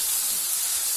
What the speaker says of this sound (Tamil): சேர்த்து இதையும் ஒரு 2 நிமிஷம் வதக்கிடலாம்.